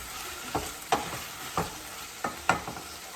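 Brinjal curry is stirred in a pan, with a spoon scraping through it in about five distinct strokes over a soft sizzle. The scrapes come close and clear, with no talk.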